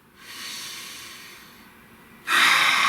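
A slow breath drawn in gently over the first two seconds, then a louder, sharper exhale near the end, close and alone with no talking.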